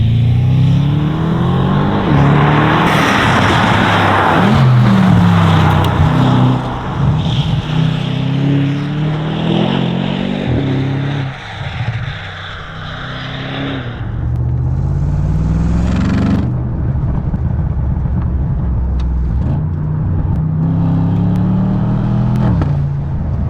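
Bentley Continental GT V8 S with four-wheel drive, its V8 engine droning steadily while driving, the pitch rising and falling through gear changes, loud and close from inside the car with no voices.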